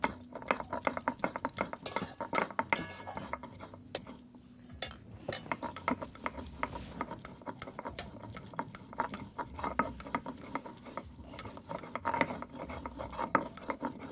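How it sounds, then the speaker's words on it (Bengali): Ginger is ground into a paste for a Bengali fish and greens dish, giving quiet, rhythmic rubbing and scraping strokes that repeat steadily with small clinks and no talking. "অল্প করে আদা বেটে নিলাম"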